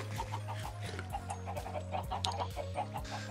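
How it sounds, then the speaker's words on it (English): Chickens on a chicken farm in the video game Minecraft cluck in short, steady repeated calls, close and clear over a low background hum. "Chicken farm. Obviously filled with chicken, or filled up with eggs."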